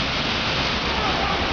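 Steady rain in foggy, wet, cool weather in Ibach, Switzerland, a dense even hiss of falling water with no break, loud and close.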